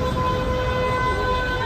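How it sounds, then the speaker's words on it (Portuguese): A sustained car horn blares loudly over rumbling traffic noise during a street protest in Rio de Janeiro, holding a steady tone for the whole stretch. "Olha os carros buzinando."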